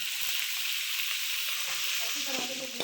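Ginger-garlic paste sizzles steadily in hot oil with golden-browned onions for chicken pulao, a loud continuous frying hiss close up with faint stirring scrapes toward the end.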